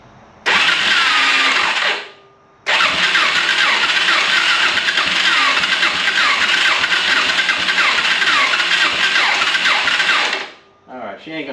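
An engine with a rough starter clutch cranks and fails to catch, giving two long, loud, churning runs of whirring turnover separated by a short pause, close by, with a brief third attempt at the end.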